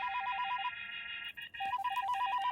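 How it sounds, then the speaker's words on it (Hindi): A melodic electronic phone ringtone plays a repeating tune in two bursts, with a brief pause in the middle, clear and close. "मोबाइल की घंटी सुनाई नहीं देती क्या?"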